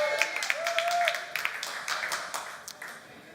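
A lecture audience claps along at a marine technology talk, with a scatter of sharp hand claps and taps that come and go over a few seconds while a voice talks over them.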